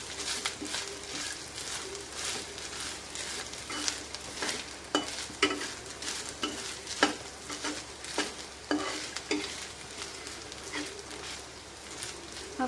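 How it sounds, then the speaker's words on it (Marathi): Grated mango is sautéed in a pan, heard as repeated scraping stir strokes over a low, steady sizzle, close and rhythmic with no talk. "ते पीसही आपण त्यातच परतून घेणार आहोत"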